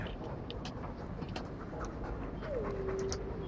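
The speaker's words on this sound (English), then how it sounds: "Your hound is a mark of nobility in Ferelden, is he not?" A Mabari war hound in Dragon Age 2 pants softly and steadily under a low game ambience, followed by a brief faint whine near the end.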